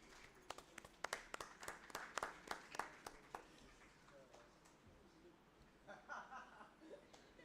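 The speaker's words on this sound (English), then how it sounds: "Please join me in applauding." Audience at an international academic seminar applauds, a burst of clapping that builds and then thins out, heard at moderate distance in a hall, with some faint murmuring afterward.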